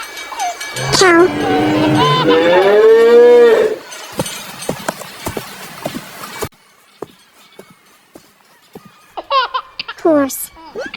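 One long, loud moo from a cow rises and bends near the start, followed by scattered clicks and small sounds, then a few short, bright calls near the end.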